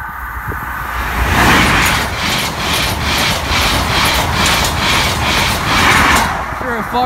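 An HST passenger train rushes loudly through a level crossing at Church Lane, a steady roaring rumble with rhythmic clatter of coaches passing close by for several seconds.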